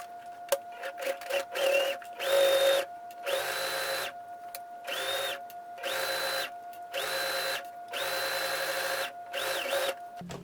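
Bursts of whirring mechanical stitching from a sewing machine sewing a seam on a pants waistband start and stop repeatedly, each run lasting a second or so with short pauses between, close and fairly quiet.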